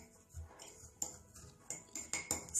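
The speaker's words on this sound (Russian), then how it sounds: "вот так вот его в банке прям перемешиваем" Spoon stirring a folk cough remedy mixture in a glass jar, a series of quiet clinks and scrapes against the glass, irregular and growing sharper toward the end, heard up close.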